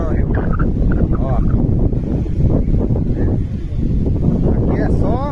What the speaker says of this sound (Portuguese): Mas enquanto tiver esse vento, se vento solto assim, não cai água não, viu?